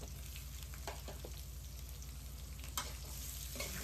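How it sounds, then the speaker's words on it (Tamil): Onions and green chillies sautéing in a pan for a North Chennai style fish curry, a steady soft sizzle with occasional faint scrapes and clicks, no talking. "வெங்காயம், பச்சை மிளகாய் எல்லாத்தையும் நம்ம போட்டுக்கலாம். போட்டு நல்லா வதங்கணும்."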